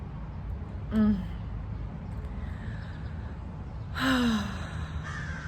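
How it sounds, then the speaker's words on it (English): Two loud crow caws ring out a few seconds apart over steady outdoor background noise, with a fainter call trailing at the end. "The crows are calling out to us right now."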